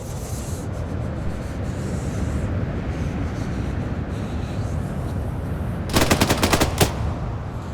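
Gunfire and grenade-launcher rounds in the military video game ArmA, with a steady rumble of battle noise and a quick burst of sharp, evenly spaced shots near the end.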